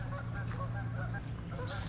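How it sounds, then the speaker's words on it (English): Wild geese honk in a flat, secluded spot in the Canadian outdoors, a steady run of calls carrying over the open air for about two seconds. "Wild enemy. Geese."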